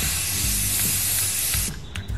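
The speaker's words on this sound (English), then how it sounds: "So I'm gonna just start by doing a light spray paint first." A continuous aerosol spray paint can hisses loudly and steadily close by while painting shelves for most of the clip, then breaks into a few short bursts near the end.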